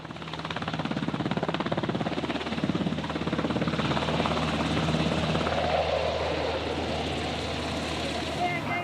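A military helicopter arrives for a rope assault, its rotor and engine roar steady, loud and close for the whole stretch, with faint voices mixed underneath.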